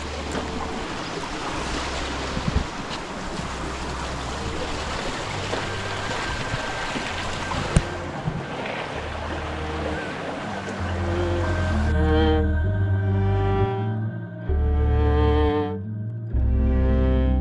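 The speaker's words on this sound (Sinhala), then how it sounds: "ඉතින් මේ තමා තියෙන රිදී බැඳි ඇල්ල." Ridi Bendi Ella waterfall near Deduru Oya reservoir, a broad steady rush of falling water heard up close, later joined by a low rumble and wind buffeting the microphone.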